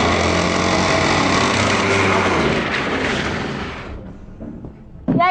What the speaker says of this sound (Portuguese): o motor tá rajando. Eu acho que a gente vai ter que abrir o motor pra ver